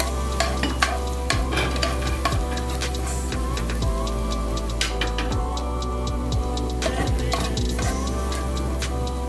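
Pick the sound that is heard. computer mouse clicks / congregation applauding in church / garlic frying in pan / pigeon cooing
garlic frying in pan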